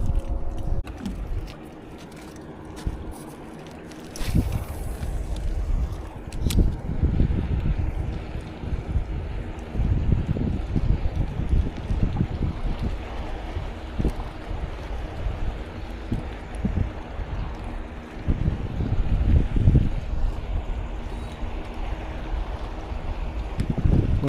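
A fishing boat on the sea moves steadily, its engine and water rush mixed with gusty wind buffeting the microphone, with occasional knocks and splashes and no speech.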